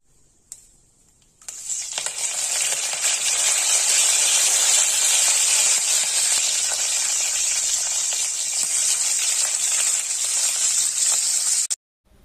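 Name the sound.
oil tempering with mustard seeds, cashews, green chilies, curry leaves frying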